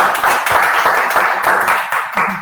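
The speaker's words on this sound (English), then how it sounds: "I want the people here to give a huge round of applause for this." An audience applauds after an excellent presentation on igniting change, dense clapping holding steady and close for a couple of seconds with no talk over it.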